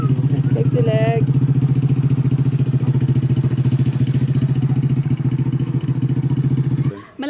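Papa's motorcycle engine runs steadily up close with a loud, even throb, and a brief voice cuts in near the start before the engine note drops away at the very end.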